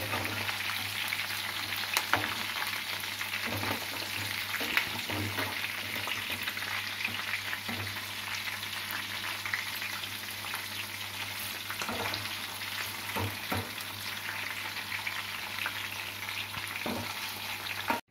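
Chicken pakodi and curry leaves fry in hot oil, a dense continuous sizzle with occasional crackles and pops, steady and close, with a faint constant hum underneath.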